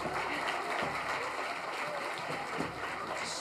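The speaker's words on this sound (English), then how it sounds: "Let's give her a round of applause." Steady audience applause fills a school hall at a first- and second-grade choral concert, a dense, even clapping that holds at full strength throughout.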